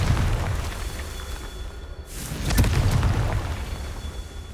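A Confringo blasting spell detonates in Hogwarts Legacy, one loud booming burst midway through a low rumbling ambient backdrop.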